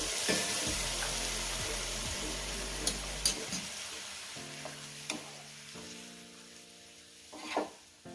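Masala sizzles loudly as it is sautéed in a pan for Lekurwali bhaji. The continuous frying hiss is broken by occasional sharp scrapes of a stirring utensil, and a low steady hum sits underneath.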